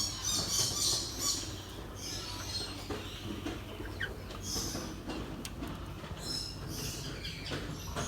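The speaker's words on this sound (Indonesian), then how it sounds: "jadi banyak banget nih suara burung" Many birds call and chirp at once in an outdoor bird park in Palembang, a busy layered chorus of squawks and chatter over steady background hum, continuous throughout.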